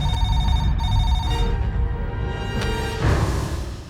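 A telephone rings with a steady, bright electronic ring that repeats through a busy indoor scene.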